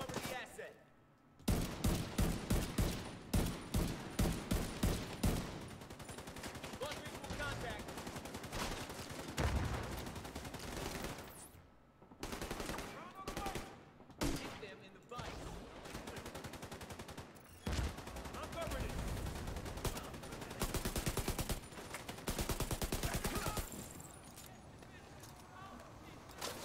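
Gunfire rings out in Tom Clancy's The Division 2 from a weapon that is not fully automatic, firing in rapid bursts and single shots with short gaps. Someone talks over some of the shooting.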